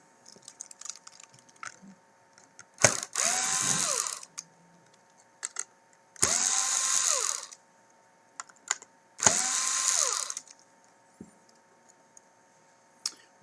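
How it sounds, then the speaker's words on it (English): Screws being backed out of a gearbox side panel during a TAO/LX7 main base replacement, three separate bursts of fast, close, rattling ratchet-like whirring, each lasting about a second with quiet gaps between. "you remove the 3 or 4 screws from the side panel, which will expose your gears"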